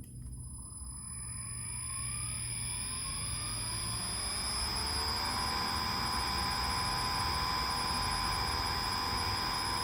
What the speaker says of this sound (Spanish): vamos a sacar un poquitito la cinta para que se note que está girando el motor